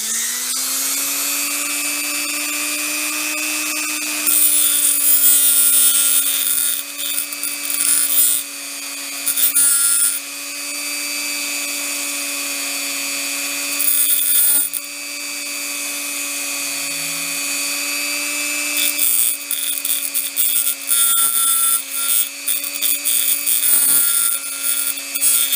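A small high-pitched power tool whines steadily while trimming edge pieces off an LED for a pocket flashlight, the loud close-up buzz dipping and surging in short bursts as it cuts.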